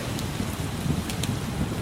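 Steady rain falling outside army barracks in Iraq during the rainy season, a continuous broadband hiss with soft low rumble and a few sharper drop ticks, moderately loud and close with no voices.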